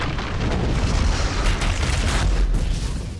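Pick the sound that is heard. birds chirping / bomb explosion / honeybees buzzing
bomb explosion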